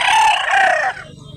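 A rooster at a busy rooster market in Mantalungon, Barili, Cebu gives one loud, close crow lasting just under a second before it cuts off, leaving quiet background murmur.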